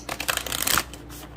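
Tarot cards being shuffled by hand, a quick rapid riffle of papery flutters lasting under a second, close and clear, then quiet.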